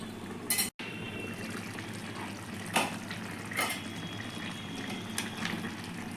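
Egg and potato curry gravy simmers in a covered pot on the stove, giving a steady close bubbling hiss with a few faint clinks.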